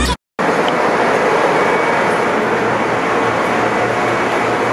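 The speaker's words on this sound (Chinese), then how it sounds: "我现在坐往台南的区间车咯" A Taiwan Railway local train heading to Tainan, heard from on board, gives a loud, steady rumble and roar of wheels and carriage that runs continuously after a brief gap at the start.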